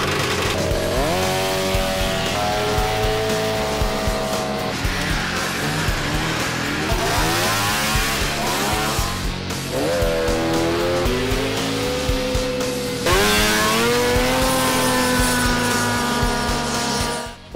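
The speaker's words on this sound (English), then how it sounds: "Vintage enthusiasts like to show their sleds and race them too." Vintage snowmobiles racing at a summer grass drag event: several high-pitched two-stroke engines scream and rise in pitch through repeated runs, loud and close, shifting gears with rising whines, with no talk over them.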